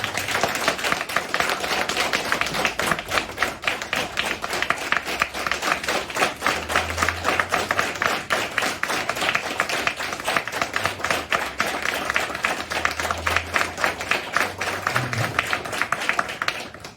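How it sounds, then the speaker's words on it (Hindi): Dense, steady applause from a seminar audience at a Hindi-language network marketing event, many hands clapping loudly and continuously for around seventeen seconds with no break. "उस कंपनी के लिए एक बार जोरदार तालियां बजाएं"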